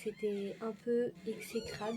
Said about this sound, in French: Faites pas attention, c'est mon chat qui vient de rentrer.